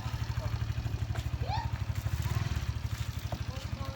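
Motorcycle engine idling with a steady low rhythmic thump, continuous and fairly close, with brief voices and faint background sounds over it.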